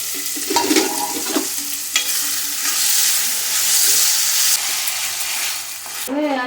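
Chopped capsicum hitting hot oil with onion and garlic paste in a pan for pav bhaji, a loud steady sizzle with stirring scrapes running throughout.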